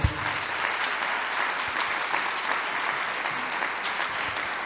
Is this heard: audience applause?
yes